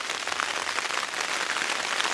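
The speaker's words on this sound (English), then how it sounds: "Still raining, wind still blowing." Steady rain with blowing wind outdoors in the Alaskan wilderness, a continuous, fairly loud patter and hiss that runs evenly throughout.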